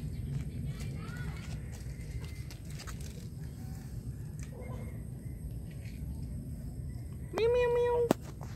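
A stray cat living outdoors in a village gives one clear, drawn-out meow near the end, fairly close, over a steady background hum and scattered faint noises.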